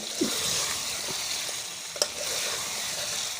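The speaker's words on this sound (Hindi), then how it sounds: "अब आलूओं को हम अच्छी तरह से भूनेंगे।" Potato pieces for aloo pakora sizzle in hot oil, a steady close frying hiss with a few soft stirring knocks and one sharp clink partway through.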